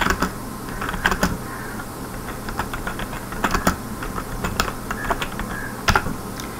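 Typing a C program on a computer keyboard, with steady clusters of key clicks and sharper taps as a line of code is entered, close and clear over a low background hum.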